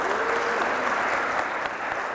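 A crowd at a Richmond economic development announcement keeps up steady, even clapping, a broad continuous wash of applause from start to finish with no talking over it.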